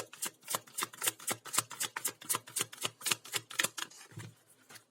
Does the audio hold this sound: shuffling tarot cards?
yes